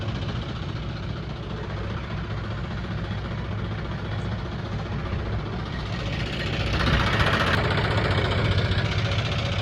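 A farm tractor's diesel engine idles at night, a steady low rumble with a fast, even knocking throb that holds constant and swells slightly louder near the end, with no voices over it.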